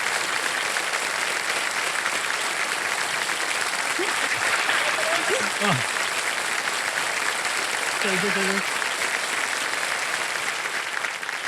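On the quiz show Kaun Banega Crorepati, a studio audience gives a contestant sustained applause lasting over ten seconds, steady and loud, while voices briefly speak over it midway.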